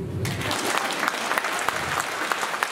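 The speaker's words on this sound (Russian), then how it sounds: "Хлопайте." Dense applause from a youth congress audience in Abakan, Khakassia, steady and full with sharp individual claps standing out across the whole stretch.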